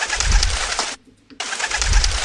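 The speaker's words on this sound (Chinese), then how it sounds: "然后再搭配鸽子飞走" Pigeons take off in an empty, spacious room, bursts of fluttering wingbeats in two loud flurries separated by a sudden brief gap of near silence.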